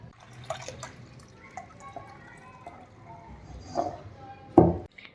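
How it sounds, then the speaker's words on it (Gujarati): Butter being washed by hand in water in a home kitchen while making ghee, giving soft intermittent splashes and drips, with a louder slosh near the end. "આવી રીતે બધું ભેગું કરી લેવાનું હોય છે અને આસાનીથી મખણને ધોવાઈ જાય છે"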